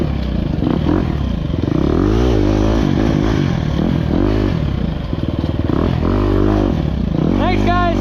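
A dirt bike engine revs and races along an Indiana singletrack enduro course, loud and close throughout with rising and falling throttle and a sharp whine near the end.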